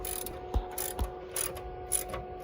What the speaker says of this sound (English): we're going to loosen the nut on the shift pin